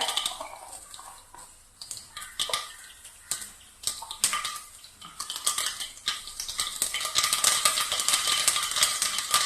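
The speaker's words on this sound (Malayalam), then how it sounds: "കടുക് നല്ല രീതിയിൽ പൊട്ടിക്കഴിഞ്ഞു." Mustard seeds crackle in hot oil in a pan while Kerala-style papaya thoran is cooked. Sparse pops at first quickly build into dense, sputtering crackling, close and fairly loud, with no talking.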